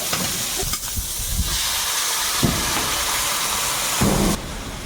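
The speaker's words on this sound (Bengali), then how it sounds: "ঢ্যাঁড়সটা মশলা আর আলুর সঙ্গে একটু নেড়ে চেড়ে নিয়ে জল দেবো" Water poured into a hot pan of okra, potatoes and spice paste sends up a loud, hissing rush of steam and sizzle, with a few knocks of the pan, heard close.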